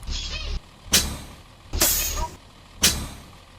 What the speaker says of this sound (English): parking brake